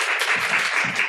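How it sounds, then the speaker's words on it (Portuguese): Applause from a studio audience during a heated Brazilian talk-show debate, steady dense clapping filling the whole second at close range with a few louder swells. "É quando eu ouvi aplausos."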